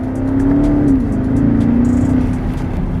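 A 2022 BMW X6 M50i V8 engine rumbles deeply and steadily as it accelerates, its pitch rising and dipping through gear changes, loud and close.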